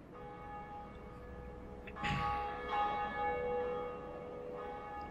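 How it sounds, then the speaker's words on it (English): The Bell of Awakening in the game Dark Souls rings out with a deep metallic strike, then a second toll follows, each leaving a long, sustained shimmering decay over a faint low background. "This is one of two bells of awakening that are very important to us."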